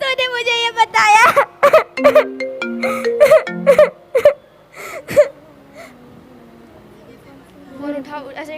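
Mobile phone ringing during a school stage play, a melodic ringtone repeating in bursts over several seconds, loud and close, with voices talking over it and the ringing fading toward the end.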